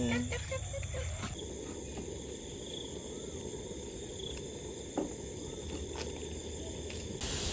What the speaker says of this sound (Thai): เอาเหรอเขียดเหรอ แล้วก็มแมลงอะไรนี่